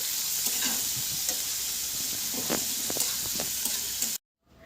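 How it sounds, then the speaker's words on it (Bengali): Onion and garlic sizzle lightly in a pan, a steady close frying hiss with soft scraping stirs scattered throughout, ending abruptly in near silence. "এবার এইসব উপকরণগুলোকে হালকা একটু ভেজে নেব।"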